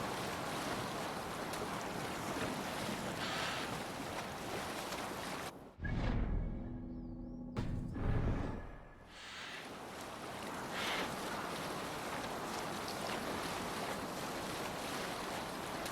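Ship under sail in Assassin's Creed Valhalla, with steady broadband wash of waves and wind filling the scene, broken by a brief muffled dip in the middle before the rushing surf resumes.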